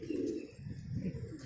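Gola fighter pigeons coo in low, soft throaty rolls, two overlapping bursts close by with faint chirps above, no talking.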